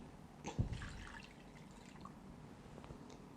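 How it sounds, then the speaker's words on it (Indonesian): Plain or iced water poured into pempek fish dough, a short splash and trickle near the start followed by faint dripping in a quiet room. "Kita tambah lagi airnya."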